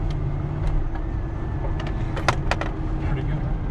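A Lexus IS300 engine pulls steadily in fourth gear, a low continuous drone with road noise from inside the car, plus a few brief clicks and knocks.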